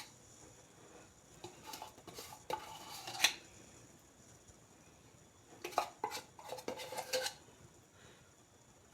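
A metal spoon scraping inside a can while making no-bake Raffaello coconut balls with strawberries, heard as two bursts of clinking, grating strokes separated by quiet, close and fairly faint.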